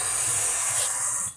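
A single forceful exhale during a yoga stretch comes as a loud, close, breathy hiss that lasts just over a second and then cuts off.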